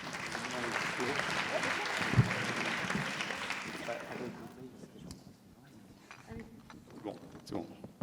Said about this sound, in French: J'accueille Jean-Guillaume et Christophe à rejoindre la scène, vous pouvez les applaudir